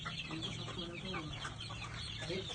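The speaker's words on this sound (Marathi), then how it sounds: "तुम्ही पाहू शकाल आपल्या हातामध्ये आपले गावरान कोंबडे आहेत" Desi country chickens cluck softly in a busy farm setting, with repeated short clucks and murmurs layered over a constant hiss of background noise.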